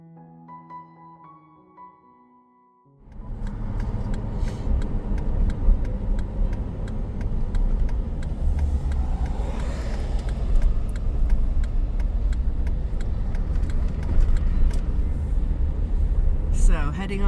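A car sets off on a road trip, its engine and road noise rising after a quiet start into a steady loud rumble with faint ticking over it.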